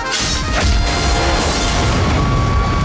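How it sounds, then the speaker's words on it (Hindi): A loud cinematic explosion boom and crash from the trailer for the Hindi film Sikandar, with a sustained roaring rumble, dense and heavy throughout, no speech. "ट्रेलर शुरू होता है एक धमाके के साथ"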